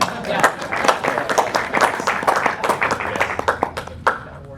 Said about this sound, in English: let's give them a round of applause for the best hat at a panel,